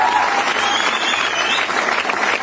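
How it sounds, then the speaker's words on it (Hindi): Loud, dense applause from an audience at a Hindi motivational speech event, a steady wash of many hands clapping throughout with no voices on top. "जोरदार तालियां मॉम के लिए।"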